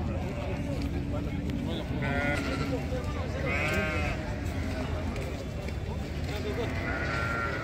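Sheep bleat repeatedly amid a busy livestock market in Taraz, with ewes and lambs for sale, the calls rising over a constant crowd hum and nearby talk.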